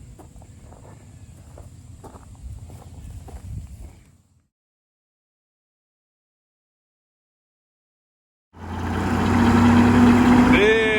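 An old John Deere 7410 tractor engine runs steadily in two stretches separated by a silent gap, a low idling rumble at first, then a louder, closer running engine with a rising whine near the end.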